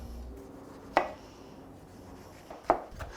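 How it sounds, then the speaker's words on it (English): A sharp knife slices fresh tomatoes into quarter-inch pieces for gazpacho, two quiet crisp cuts about a second and a half apart, close by with no talking. "Now we're gonna slice the tomatoes into about 1/4 inch thick pieces."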